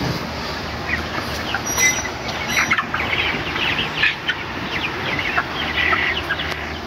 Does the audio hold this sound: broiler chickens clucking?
yes